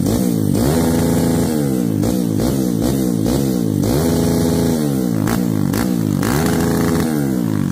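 A Kawasaki KLX motorcycle with a fitted Keihin Sudco 30mm carburetor runs close and loud, its engine revving up and falling back in repeated surges without any talk.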